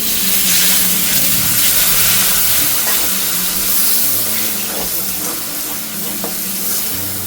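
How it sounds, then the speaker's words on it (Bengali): A loud, steady sizzle and hiss as a little hot water goes into a pan of frying spiced potato curry, continuous wet bubbling close up with no voices. "সামান্য একটু গরম জল দেবো।"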